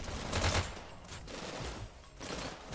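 Rapid bursts of gunfire in a VR esports video game match, dense overlapping shots across the whole stretch with slight dips between volleys, no talking.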